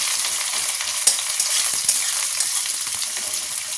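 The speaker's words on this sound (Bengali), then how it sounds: "দিয়ে এবার বেশ করে ভেজে নেব" Dense, steady sizzling of onion, garlic and green chilli frying in hot oil fills the clip, loud and close, with a few faint clicks of stirring.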